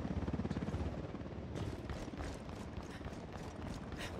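A helicopter in the video game Ghost Recon Wildlands beats with a rapid rotor chop at first, then continues under gunfire-like bursts and clatter, fairly loud throughout.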